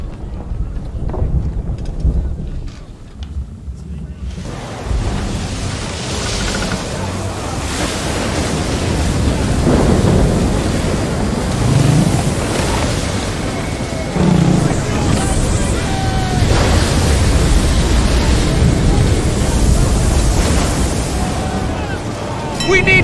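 Stormy sea in Assassin's Creed III, with roaring wind and heavy crashing waves building after a quieter start, loud and continuous around a sailing ship while voices speak intermittently.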